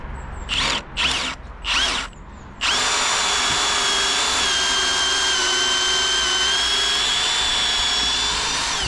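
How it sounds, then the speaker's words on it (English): A Milwaukee power drill whirs in three short bursts, then runs continuously under load driving into roof timber for several seconds, loud and close. "Got plenty of grunt, that good drill."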